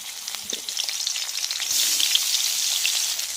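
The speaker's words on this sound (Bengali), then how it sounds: "আবার আমি সাদা তেল দিয়ে দিয়েছি মাছগুলোকে ভেজে নেব" Fish fries in white oil for a Bengali mixed-vegetable dal with fish head, a steady broadband sizzle that swells louder about halfway through and keeps a dense crackle going with no voices.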